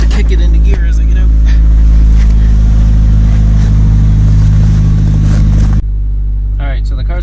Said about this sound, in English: the car's been running for quite some time now